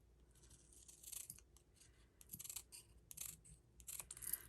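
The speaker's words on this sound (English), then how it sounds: "I'm gonna cut this tight to the word" Scissors snipping paper close around stamped letters for a handmade card, a run of short crisp bursts in uneven rhythm, close and alone with no talk.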